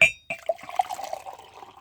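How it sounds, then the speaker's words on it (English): Hot water pours into a Krispy Kreme color-changing coffee mug, starting with a sharp knock, then a short trickling, gurgling splash that tapers off, close and fairly quiet. "I'm about to pour hot water into the cup."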